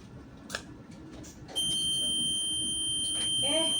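An alarm buzzer kicks in partway through with a loud, steady high-pitched tone after a stretch of background noise, while voices talk faintly underneath.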